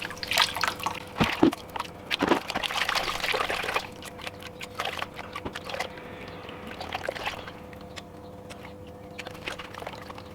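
Water sloshes and trickles while gold is panned from fine dirt sifted through a kitchen strainer, close pouring and dripping with splashes, loudest early, then quieter swirling.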